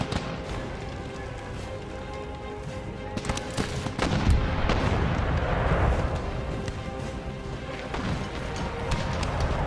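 Black-powder battle in Empire: Total War, with booming artillery and crackling musket volleys rolling over each other, swelling in the middle into a dense, continuous roar of distant and nearby shots with no pause between them.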